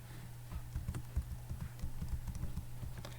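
Keys clattering on a computer keyboard as a username is entered, a quick irregular burst of close, soft taps over a faint steady hum.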